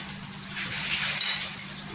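Kashmiri red chilli powder and Agri masala sizzling in hot oil for pav bhaji, a steady, close frying hiss with light stirring.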